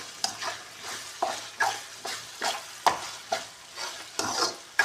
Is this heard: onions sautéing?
yes